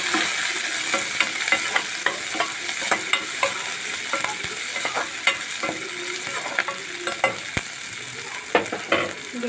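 Chopped onions and green chillies frying in a pan, a continuous close sizzle broken by frequent irregular scrapes and clicks of a spatula stirring, with no voices.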